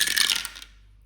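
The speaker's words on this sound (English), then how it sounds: "2 dice." Two dice tumble in a board game played during a savings challenge, a short burst of hard clattering rattles that fades quickly into quiet after about half a second.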